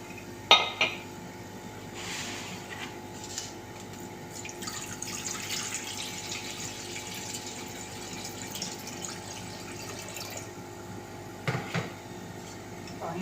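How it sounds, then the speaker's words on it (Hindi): Water poured into a cooking pot to heat for mash daal with eggs, a quiet steady splashing and trickle with a few light metallic clinks of kitchenware, close by. "सबसे पहले हम लेंगे पानी।"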